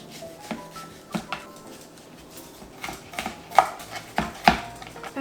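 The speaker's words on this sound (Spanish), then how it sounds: "Ahora picar la cebolla" A knife chops onion on a cutting board in a home kitchen, a series of sparse, crisp taps at uneven intervals, close and fairly soft, with brief louder knocks near the end and no talk.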